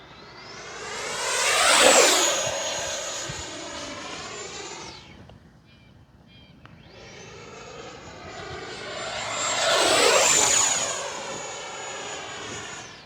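An E-flite F-16 Thunderbirds 70mm electric ducted-fan RC jet streaks past twice, each loud high-speed pass rising to a piercing whine and fading away, with a quiet gap between the two flybys.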